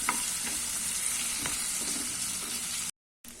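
Chopped large tomatoes sautéing in a pan for a mixed-vegetable chutney, giving a steady close sizzle with light stirring scrapes throughout, then a brief cut to silence near the end.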